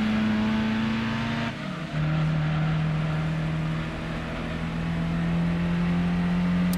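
Lotus Europa racing on a Gran Turismo 2 license test track, its engine a steady, loud, nasal drone that dips briefly near the start, then holds an even tone while other cars are passed.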